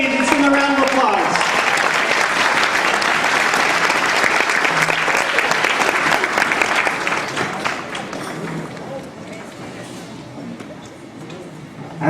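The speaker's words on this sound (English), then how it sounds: "Let's give him a round of applause." Loud, sustained clapping from an audience, steady for several seconds and then thinning out toward the end, with a voice briefly at the start.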